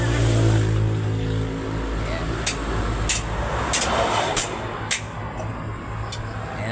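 Truck with an 8DC11 diesel engine idling steadily and loud up close, a low continuous drone with harmonic hum, a few faint sharp clicks toward the end.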